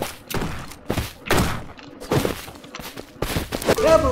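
Rapid shotgun blasts in the farm shooter game Shotgun Farmers, a string of loud, punchy thumps repeating every half second or so, close and sharp, with game effects in between.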